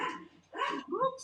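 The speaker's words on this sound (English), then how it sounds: "Oops, the dog's going." A dog gives a few quick, close barks in an indoor room.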